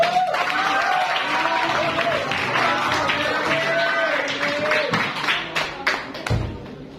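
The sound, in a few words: audience applause for Jeremy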